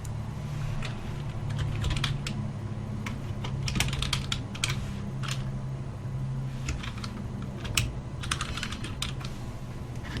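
Someone types on a computer keyboard while editing place card templates, producing clusters of quick crisp key clicks in irregular bursts over a low steady background hum, with no voices.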